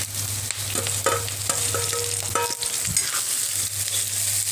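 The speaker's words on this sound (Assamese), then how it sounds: "এতিয়া মই কুন্দুলিখিনি দি দিম" Ivy gourd is stir-fried with browned onions in hot oil, with a steady sizzle, repeated scraping and clattering of a spoon against the pan, and a low background hum.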